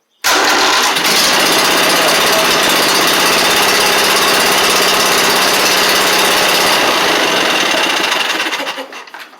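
A Briggs and Stratton V-twin engine fitted with a new starter cranks and fires up, running loud and steady close by for several seconds before being shut off and fading out.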